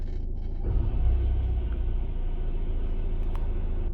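A Ford Transit Connect van engine idles in neutral with a steady low rumble and throb, close and continuous, no voices over it.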